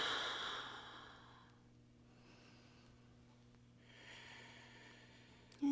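A long, slow exhale during a morning yoga practice, breathy and soft at first, fading into quiet, then a second gentle breath, heard close with no talking.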